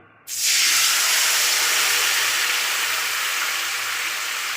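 After a moment of quiet, tamarind water is poured into hot frying spices with a sudden loud sizzle that settles into steady, bright hissing.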